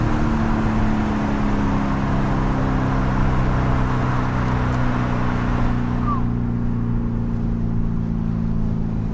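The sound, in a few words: car engine revving, driving fast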